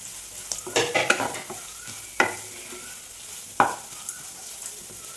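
Half a teaspoon of asafoetida powder mixed into a frying mixture in a pan for coconut rice, with a quick flurry of scraping stirs, then two separate sharp scrapes over a faint sizzle.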